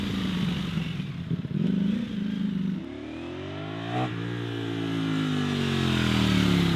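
A Ducati Streetfighter V4 S motorcycle engine rumbles loudly up close, revving and roaring with rising and falling pitch sweeps.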